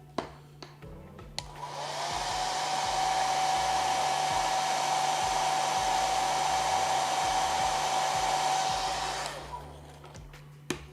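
A hair dryer blows heat onto model decals, switching on after a few faint handling clicks, then running as a loud, steady whining rush for about eight seconds before cutting off.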